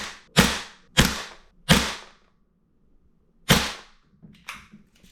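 An MWS gas blowback airsoft rifle fires four sharp, loud cracking shots, each with a short decaying hiss, spaced with a pause before the last, followed by faint mechanical clicks at close range.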